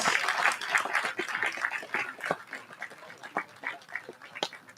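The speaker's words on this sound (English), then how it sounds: "Can we give them a round of applause?" Scattered applause from an audience at a leadership event, uneven claps that thin out and fade into separate sharp claps toward the end.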